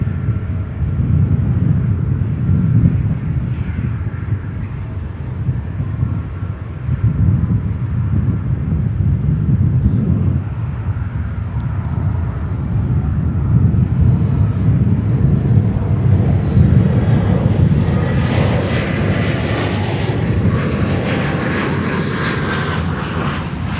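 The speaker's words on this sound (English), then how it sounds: "Next arrival is another Embraer 175. United Express coming in from Lincoln." A United Express Embraer 175 jet arriving at Chicago O'Hare gives a sustained engine roar mixed with wind buffeting, swelling and shifting as it nears, loud and continuous without speech.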